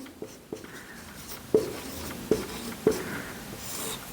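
A pen writes by hand on paper or a board during a psychology lesson. Soft scratching strokes come with a few sharper taps spaced over about four seconds. The writing is quiet and close, with no speech.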